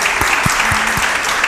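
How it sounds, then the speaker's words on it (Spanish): A studio audience at a televised school quiz show claps briefly, a short burst of applause with a few distinct claps. "¡Un fuerte aplauso!"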